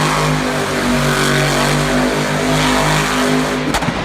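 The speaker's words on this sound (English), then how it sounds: "Oh, the engine explodes." A monster truck at Monster Jam Raleigh roars at full throttle, then its engine blows, ending in a sudden sharp crack as the sustained loud drone falters.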